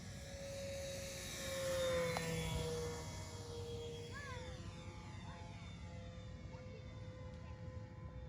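An Avios King Twin 1700 RC airplane, a twin-motor model on a 4S battery, passes low along a runway, a faint steady electric whine that swells and shifts pitch as it goes by, over outdoor background noise.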